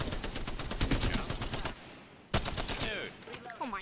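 Rapid bursts of Spitfire machine-gun fire in the battle-royale shooter Apex Legends, loud and close, a dense stream of shots that stops briefly mid-clip, then resumes with mechanical whirring and ringing tones from the game.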